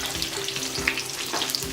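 Potato and onion balls deep-frying in oil for a crispy snack, a steady close bubbling sizzle with a few soft clicks and stirring knocks, nobody talking.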